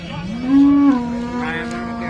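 A cow at a cattle market in Sangola, Maharashtra lets out one loud, drawn-out moo that rises in pitch, then holds a steady tone, close by with a low background murmur.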